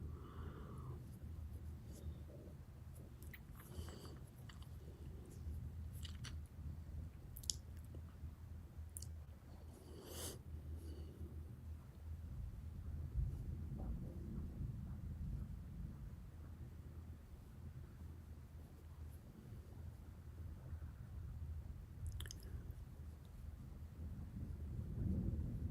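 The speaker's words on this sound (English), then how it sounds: "we're just going to sit here and listen to the thunder" Low, distant thunder rumbles softly and rolls on over a long quiet stretch, with faint wind noise and scattered clicks near the microphone.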